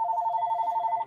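An electronic telephone ringtone trills in a steady, rapid warble, loud and close, holding for about a second before cutting off, with no talking over it.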